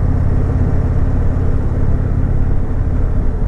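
A 2019 Indian Chieftain Dark Horse motorcycle engine drones under way in sport mode, a steady low rumbling roar mixed with wind noise, constant and close.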